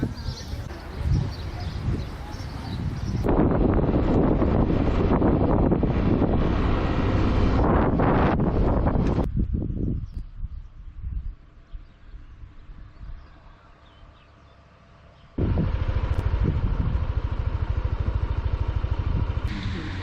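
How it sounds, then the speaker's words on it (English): A motorcycle ride on an island in the Azores near Ponta Delgada: loud engine roar heavily buffeted by wind, dropping to a quieter idle midway before the engine and wind rush surge back. "I got way more of the island to go with my motorcycle"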